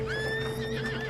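A horse neighs in the Red Dead Online video game, a single clear whinny with a rising and falling pitch, close and loud against a steady low background hum.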